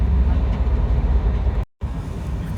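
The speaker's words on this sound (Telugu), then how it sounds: "ఎక్కువ మీకు ఈ ట్రైన్ సౌండ్ ఎక్కువ వినిపిస్తుంది" Rumbling running noise inside a moving train carriage on a Hyderabad to Delhi trip, loud and steady with deep low roar, briefly cut to silence for a moment before resuming.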